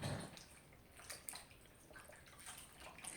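Running water rinsing something off during a hand scrub treatment, a soft, faint, continuous splashing flow with small drips, close by and without talk.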